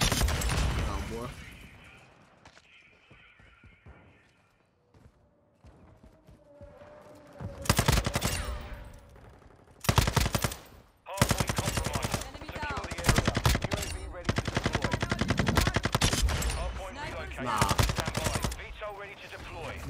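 Sakin MG38 machine gun firing in Modern Warfare 2: loud, dense automatic bursts that begin after a quieter opening and repeat in rapid, near-continuous strings, with someone talking at times between and under the shots.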